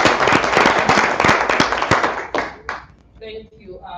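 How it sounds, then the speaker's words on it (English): Audience clapping at a corporate accountability conference session, a burst of many hands that thins to a few scattered claps and then fades as a voice begins speaking. "I think we can give them a better round of applause"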